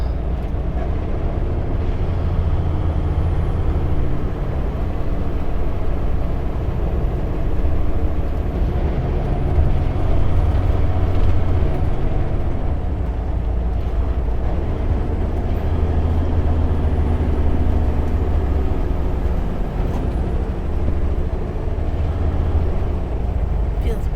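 A truck driving at night gives a steady, loud low engine and road drone inside the cab. Voices talk over the rumble at times.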